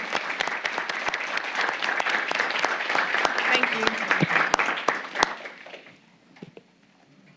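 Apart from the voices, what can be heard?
applause at city council meeting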